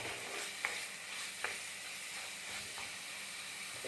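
Small and large prawns fry in a hot pan with a constant close sizzle and hiss, while a utensil scrapes and taps against the pan a couple of times as they are stirred; no talking.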